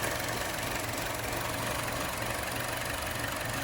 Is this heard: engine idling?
yes